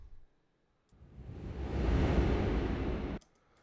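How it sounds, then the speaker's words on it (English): A swelling whoosh effect from a sample pack rises out of near silence, holds as a broad rushing wash for about two seconds, then cuts off abruptly. "Little sample pack whoosh."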